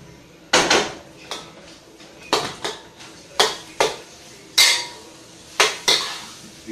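Metal utensil scraping and clanking against a pan while shrimp and chicken fried rice is stirred. About eight sharp clatters come in an irregular rhythm, close and fairly loud, with no talking.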